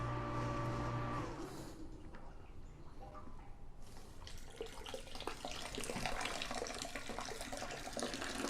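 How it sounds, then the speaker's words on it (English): Hot water gushes and splashes loudly into a vessel for a peach whiskey mash, a continuous rushing pour that grows fuller as it goes on, preceded by a low hum. "So I'm going to add some hot water."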